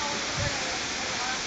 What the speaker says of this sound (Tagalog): may I introduce to you the largest man-made waterfall in Singapore